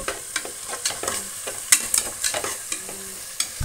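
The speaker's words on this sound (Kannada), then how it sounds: "ಇದನ್ನು ಇದರಲ್ಲೇ ಫ್ರೈ ಆಗಲಿ." Vegetables frying in a pan for palav, a light sizzle under repeated scraping and stirring strokes from a spatula, close and irregular with no voices.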